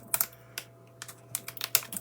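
Big scissors snip excess card off an oval for a shabby chic card, giving a string of crisp, close, irregular cuts of varying loudness over a faint steady hum.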